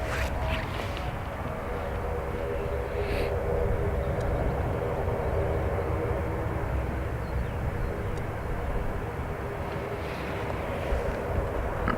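An aircraft taking off from runway 28 right at Dublin Airport, a sustained broad engine roar heard from a distance, steady throughout with wind noise and no talking.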